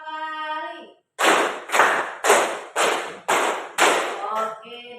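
A teacher's voice gives a short instruction, then a group of children clap together in sharp, loud bursts, six evenly spaced in about three seconds, each followed by a brief ring of the room, before the voice resumes.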